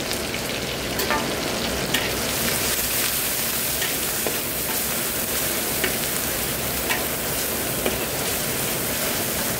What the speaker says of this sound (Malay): Tumis sekejap.